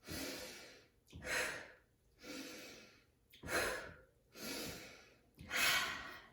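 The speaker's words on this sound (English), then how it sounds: "Take a deep breath in, fast breath out." Breathing exercise with deep breaths in and fast breaths out, six loud close airy breaths in an even rhythm, each swelling and fading with short gaps between them.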